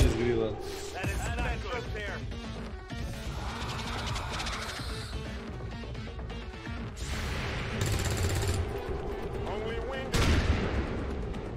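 Repeated gunshots, including shotgun blasts, and explosive bursts from combat in XCOM 2: War of the Chosen, some loud cracks among a busy mix of effects and background sounds.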